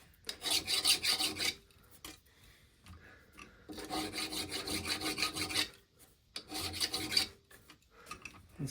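A file rasps burrs off a metal base for a large driving trolley, in three bursts of rapid back-and-forth strokes with brief quiet gaps between them, close and clear without any talk.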